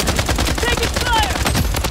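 Dense automatic gunfire from the mobile shooter Blood Strike, likely a Scar rifle, rattling loud and close in rapid bursts throughout, with faint game chirps layered over it.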